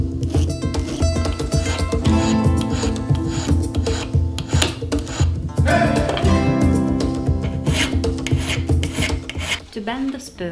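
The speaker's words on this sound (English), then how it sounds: "I'm using these files for now." A metal file rasps steadily against an antique spoon ring, the close, continuous scraping strokes running throughout over a tonal background.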